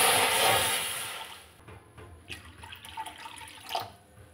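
Water being poured into a pot while making Bengali kodom pitha: a short, hissing gush that fades out and leaves a few faint splashes and clinks.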